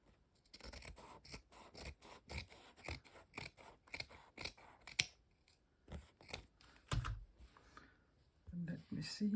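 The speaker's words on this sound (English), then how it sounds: "So now I will cut the edges clean." Scissors snip the edges of a fabric collage in repeated close, crisp cuts with uneven pauses, while a person talks quietly at times.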